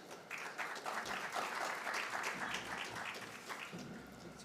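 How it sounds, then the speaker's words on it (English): An audience at a national science quiz competition applauds a university team, a full, even roar of clapping that rises quickly and holds steady before easing slightly near the end. "Give a big round of applause for this team."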